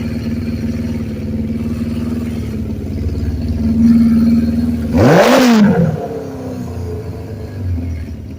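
A 1991 Chevy S10 starts for the first time of the year after new intake manifold and throttle body gaskets, with its EGR regulator disconnected. The starter grinds for a few seconds, then the engine catches with a loud rising rev and settles back toward a rumbling idle.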